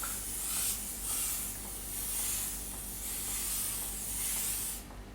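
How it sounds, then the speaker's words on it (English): Olive oil hisses softly from a spray bottle over stuffed zucchini in a few close, gentle bursts of fine mist, with no talking. "Now I'm just going to spray him a little bit with olive oil over the top of it."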